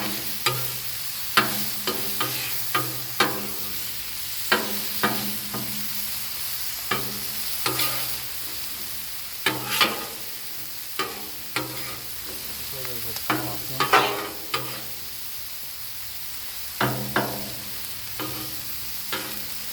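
Butter and food sizzle on a hot Blackstone griddle, a constant loud hiss punctuated by regular metal spatula scrapes and taps every second or two, close up with no talk.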